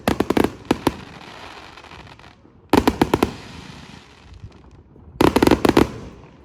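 Firework rockets exploding over a neighborhood in three loud bursts of rapid crackling bangs, separated by quieter rumbling gaps.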